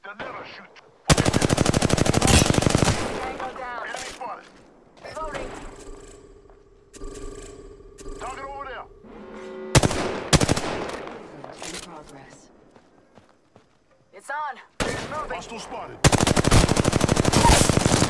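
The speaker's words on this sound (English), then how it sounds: "Taking shots." Bursts of automatic gunfire from an Apex Legends match, loud sustained volleys separated by quieter gaps with mechanical clatter and brief voice lines between them.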